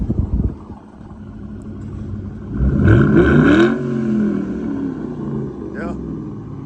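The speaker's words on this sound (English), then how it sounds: "give it a little gas" A lowered 2006 Ford Mustang GT's engine idles with a low rumble, then revs up in one rising swell and settles back, heard close, with people talking over it.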